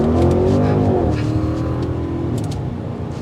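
A 2024 Audi RS Q8 SUV accelerating hard on a test drive, its engine loud and close with rising revs and a deep, steady roar.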